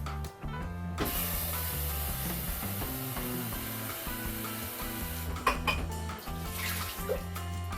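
More water poured from a blender jar into a pot of stewed goat meat and plantain, a sustained close splashing rush lasting several seconds, with no talk.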